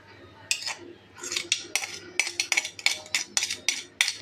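A metal utensil clinks and scrapes against a pot in quick, rhythmic strokes as spice paste is stirred into potato biryani rice, with no talk.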